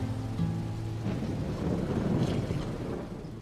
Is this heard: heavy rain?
yes